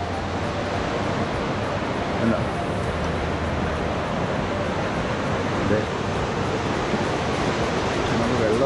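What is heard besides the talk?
forest waterfall at Anakulam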